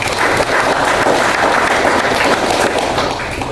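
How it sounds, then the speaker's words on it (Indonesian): A Catholic church congregation applauds during a Divine Mercy Sunday sermon, with dense, steady clapping from many hands, loud and close, holding for the whole stretch and easing slightly at the end. "tepuk tangan buat umat Tom Nanu."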